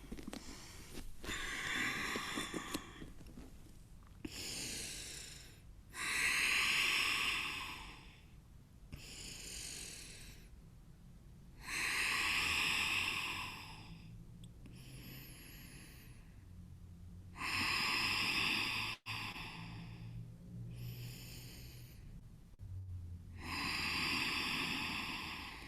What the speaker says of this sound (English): Let's do 10 big rounds of breath here.